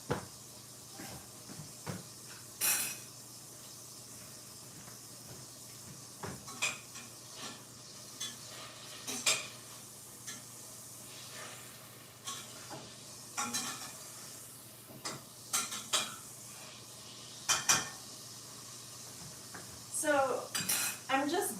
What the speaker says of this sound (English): I need to stir my tofu really quickly.